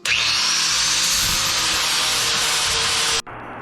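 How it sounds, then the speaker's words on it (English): Power tool grinds and buffs rust off a steel snow plow shoe in a steady, loud abrasive whir, then cuts off abruptly just before the end. "I'm going to just buff this off, get rid of some of the rust for now, before I start to weld it up."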